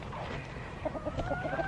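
Hens in a backyard flock cluck softly in a short series of low, rounded calls, fairly near but not loud, with steady background noise and no talk.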